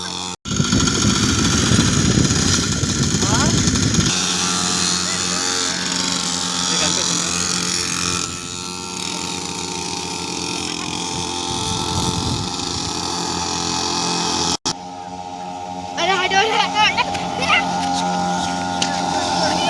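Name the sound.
petrol-powered kids' dirt bikes riding around a ground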